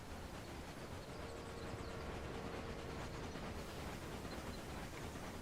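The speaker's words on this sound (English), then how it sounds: "We're going to clone that train." A train running in a video game makes a steady, dense rumbling roar that holds at an even level throughout, with no voices.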